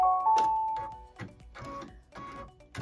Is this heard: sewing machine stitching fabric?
yes